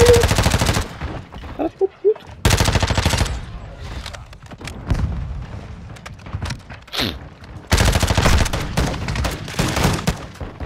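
Gunfire from a sniper rifle in Call of Duty: Modern Warfare II, in loud dense bursts that fill about the first second, roughly 2.5–4 seconds and the last three seconds, with sharper isolated cracks and quieter game sounds in between.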